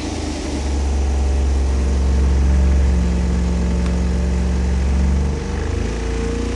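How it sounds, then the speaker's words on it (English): A V8 engine running on a dyno to warm its 0W30 oil up to 160 degrees before the first pull, giving a steady, loud low rumble with a brief dip in level near the end and no talk. "Warm up the engine until the oil temperature reaches 160 degrees, and we're ready to make our first dyno pull."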